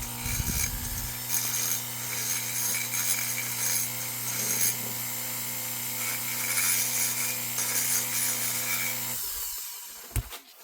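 A Foredom rotary tool chamfers the edge of a metal cylinder with a steady high whirring buzz and rasping grind that runs for about nine seconds before cutting off, leaving a brief clunk.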